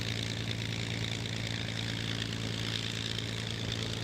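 An Avro Lancaster bomber's piston engines run steadily through a warm-up on the ground, a loud, even propeller drone with a low throbbing hum that persists without a break and no one talking.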